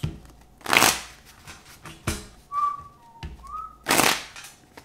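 Tarot cards being shuffled up close, with three loud riffling bursts separated by quieter handling and a couple of brief whistle-like tones in between.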